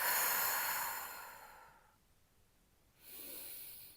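Slow paced breathing during a Pilates core exercise: a long airy breath fading out, a quiet pause, then the next breath rising, close and unaccompanied by talk.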